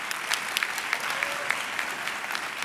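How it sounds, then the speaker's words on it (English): Steady applause from a graduation ceremony audience, dense clapping with a few louder individual claps standing out, sustained and even throughout without speech. "let us give them another round of applause"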